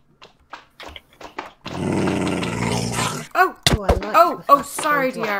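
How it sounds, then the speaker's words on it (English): A dog growls in Minecraft with the MC Eternal modpack, a harsh sustained rumble lasting about a second and a half, followed by excited voices reacting. "I heard a dog growling."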